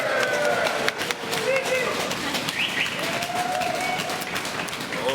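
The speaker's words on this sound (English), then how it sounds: "Applause again. Come on." Wedding guests applaud inside Plura cave, a dense, steady wash of clapping that echoes off the rock, with voices talking over it.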